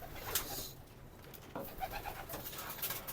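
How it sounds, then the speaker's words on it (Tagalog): Pigeons coo softly outdoors, a few low throaty calls scattered over quiet background noise, fairly faint, with no talking. "Yan ang ating mga ibon par."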